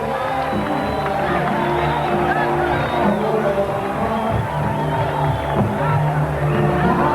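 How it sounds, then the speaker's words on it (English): A boxing arena crowd cheers and murmurs as Fort Worth fighter Donald Curry enters, a steady, loud babble of voices with scattered shouts and whoops throughout. "He gets a warm reception from this crowd."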